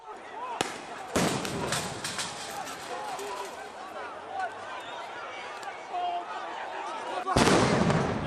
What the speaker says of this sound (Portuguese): Mais uma bomba.